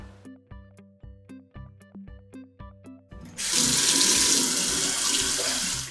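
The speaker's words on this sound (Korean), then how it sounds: "수전에서 물이 잘 나오고 손잡이를 돌려서 냉온수도 확인하고 온수." Water from a newly installed single-hole bathroom sink faucet: after a stretch of tonal clinking, a loud steady gush of running water fills the second half, close and continuous, with no talking.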